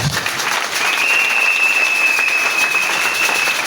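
A church congregation at a Sunday service bursts into sustained applause, a dense, even clapping that fills the room from start to finish with a faint high whistle-like tone over it.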